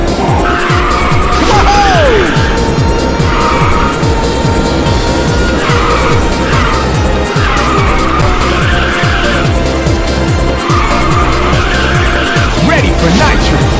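A race car in the Ridge Racer 2 video game roars continuously through corners. Repeated tire squeals and skids cut through the engine drone, and a voice speaks over it.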